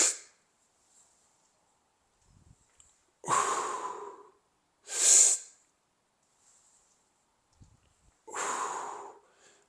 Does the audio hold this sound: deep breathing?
yes